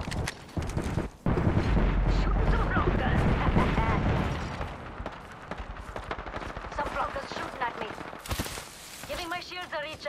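Rapid bursts of automatic gunfire in the video game Apex Legends on the Broken Moon map, loud and dense for several seconds, then sporadic shots with game voice lines and radio-like chatter over them.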